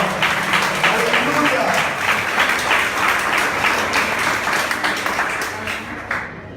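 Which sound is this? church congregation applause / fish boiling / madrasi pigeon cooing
church congregation applause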